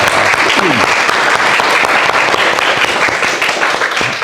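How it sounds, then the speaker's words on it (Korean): Church congregation clapping to welcome a returning couple, loud dense applause held steady for several seconds with voices mixed in underneath. "우리 박수로 한번 환영합니다"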